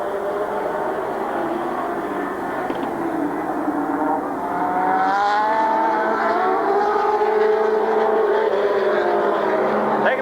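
Race cars circle Midvale Speedway at a 1992 fall classic, a steady loud roar of several engines droning and shifting in pitch as the pack passes, continuous throughout.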